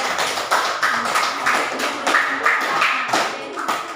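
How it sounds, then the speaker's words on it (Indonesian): A classroom group gives applause for another group of students, a brief, moderately loud patter of scattered hand claps with uneven rhythm and faint voices underneath. "Baik, berikan aplaus untuk kelompok 3."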